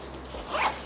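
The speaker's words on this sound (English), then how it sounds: "zip it up like" A small YKK zipper is drawn closed along a fabric packing pouch, one quick close rasping pull lasting under a second over quiet room tone.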